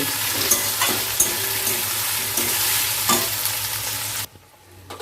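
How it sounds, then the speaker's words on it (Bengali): Spice paste fries loudly in a pan under steady stirring, a dense close sizzle broken by several scraping spatula strokes, then dropping off sharply near the end. "এবার এই পেস্টটা দিয়ে নেড়ে চেড়ে নেব পেস্টটা দিয়েও তিরিশ চল্লিশ সেকেন্ডের মতো একটুখানি ভেজে নেবে"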